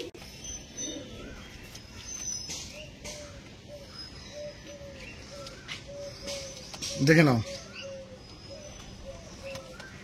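Pigeons kept for sale coo softly in a steady, repeating murmur beneath someone talking throughout, with one brief louder rustle or flutter near the end.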